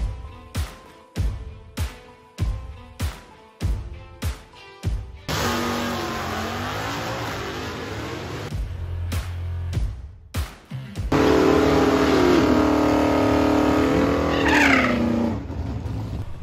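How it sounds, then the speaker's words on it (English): Drag racing cars in the pits at Beach Bend Raceway Park in Bowling Green, Kentucky, during the Holley Hot Rod Reunion: a rapid string of loud, explosive throttle blips gives way to sustained, roaring engine revs up close. "We are in the pits with the drag cars. I love that sound."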